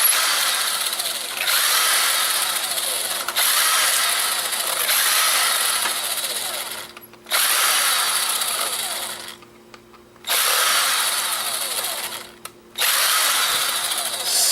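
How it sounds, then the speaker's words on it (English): A power drill unscrews many small screws from a tiny battery being broken down for scrap copper and wiring. Loud, close whirring comes in several long bursts with short pauses between them, and there is no talk. "So let's unscrew some of this stuff."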